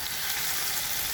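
Mushroom tikka masala fries in a pan with a steady, soft, even sizzle and no voices.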